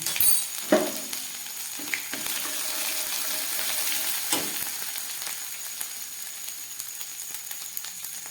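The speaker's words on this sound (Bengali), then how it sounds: "রসুনটা হালকা ভাজা হয়ে গেছে এবার দিয়ে দিচ্ছি হাফ চামচ আদা কুচি" Oil sizzles steadily at a low, close level as garlic and ginger fry, with a few sharper hisses and clatters as something is stirred or dropped into the pan.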